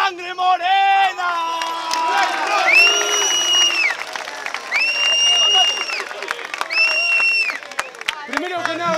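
Audience applause and cheering for a band at a live show in Uruguay, with high whistles and shouts rising over the clapping and voices mixed in.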